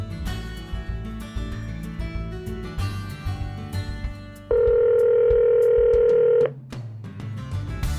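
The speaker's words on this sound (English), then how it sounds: "Okay, calling mom at home." A steady electronic ring tone of a phone call placed through Android Auto sounds for about two seconds, bracketed by other tones and background noise in a car's audio system.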